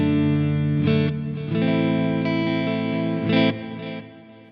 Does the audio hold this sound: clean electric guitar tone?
yes